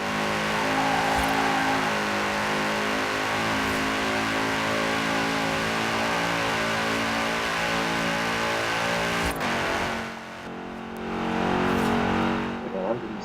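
A car engine in Forza Horizon 4 holding a steady, loud high-speed roar near 160 mph, pitch climbing as it accelerates, briefly dipping before surging again, while a person talks over it.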